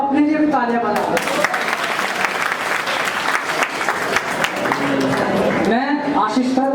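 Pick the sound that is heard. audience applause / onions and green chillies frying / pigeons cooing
audience applause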